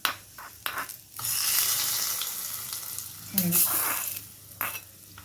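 Tempering poured over ponnanganni spinach chutney, a few utensil knocks, then a sustained hiss of hot oil with scraping, a brief bubbling burst midway and further clinks; nearby, close and moderately loud.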